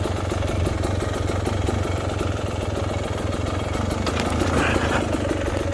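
A 2022 Beta Xtrainer dirt bike with an aftermarket fat pipe runs continuously while being ridden on a rocky cliffside trail, its loud, rapid engine pulses steady throughout, close and without speech.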